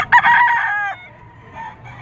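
A young stag gamecock crows once, loud and close, at a gamefowl market in Padre Garcia, Batangas, with the long call trailing off into quieter market background.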